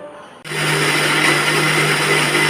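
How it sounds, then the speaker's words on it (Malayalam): A wet grinder grinding soaked rice starts abruptly with a steady motorized whir and runs on evenly, a constant grinding drone close by, with no voices. "അരി നല്ലവണ്ണം കുതിർന്ന് വന്നിട്ടുണ്ട് ഇനി ഒന്ന് അരച്ചെടുക്കട്ടെ"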